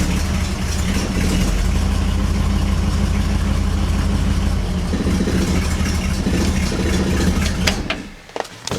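The original 283 engine in a nearly 70-year-old Chevrolet Nomad rumbles at a steady, loud idle close by, then cuts off abruptly near the end.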